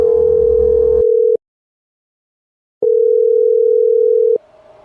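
A telephone dial tone sounds loud and steady for about a second, cuts off, then after a silent gap of roughly one and a half seconds returns for another long steady stretch before ending.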